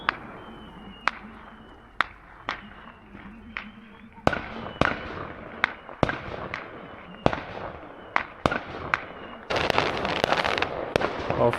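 Fireworks burst repeatedly at night near a café area, sharp loud bangs and crackles coming every second or so, growing denser into a continuous crackling barrage near the end.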